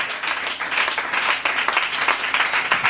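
A church congregation applauds to acclaim the Lord, dense sustained clapping filling the room without letup, loud and close.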